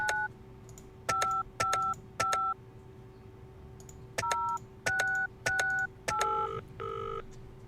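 A phone is dialed in the video game Penelope Pendrick and the Art of Deceit, a quick run of about ten crisp DTMF keypad tones with short gaps, ending in a longer tone, heard alone over a low hum.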